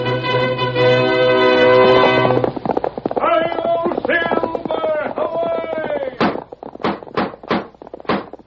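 A radio drama sound effect of a horse's hooves clip-clopping follows a sustained musical chord, then steady galloping beats that sharpen into loud, spaced single clops toward the end.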